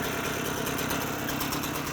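A two-stroke scooter engine idles after a smoky cold start, a steady, buzzing putter that runs continuously and fairly close with no talk over it.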